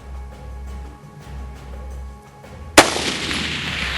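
A single Rock River Arms AR-15 rifle shot rings out sharply late in the clip, loud and close, followed by a decaying echo, after a quieter stretch of low background rumble.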